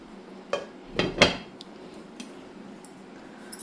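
Metal pan lid set down over a pizza cooking on the stovetop without an oven, a few close clanks and rattles clustered near the start, then quiet.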